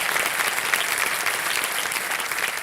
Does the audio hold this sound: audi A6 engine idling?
no